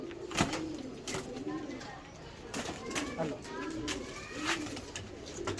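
Jonsiri Teddy pigeons from a Ferozpuri pair coo in a steady, close, soft rolling rhythm, with faint background voices and ambient noise underneath.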